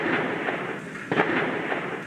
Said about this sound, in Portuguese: Neste vídeo dá para ouvir os tiros.